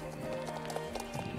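Horse hooves clip-clopping in a brisk rhythm in the Star Stable game, with a faint neigh, set against a steady hum of background game ambience.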